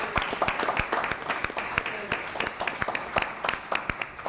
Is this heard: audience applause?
yes